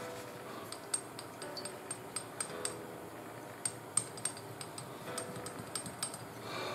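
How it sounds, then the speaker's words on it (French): A paintbrush stirs a homemade model-paint wash in a small container, giving a run of light, irregular clicks and clinks against the pot over a quiet background with no talking. "je commence à mélanger au pinceau"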